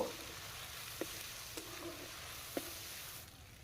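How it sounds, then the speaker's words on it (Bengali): A spatula stirs turmeric and Kashmiri chili powder in hot oil for dum aloo, making a few soft, spaced scrapes over a faint continuous sizzle. "হলুদ গুঁড়ো দিয়ে খুন্তি দিয়ে একটু নেড়ে দেব"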